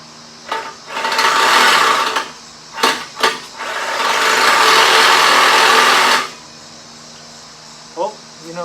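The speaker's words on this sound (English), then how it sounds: "First thing I'm going to do is go ahead and cut off the old muffler." A power tool cuts through the old exhaust muffler of a classic BMW 635CSi E24 in two loud, sustained grinding bursts, separated by brief knocks and followed by quieter clatter.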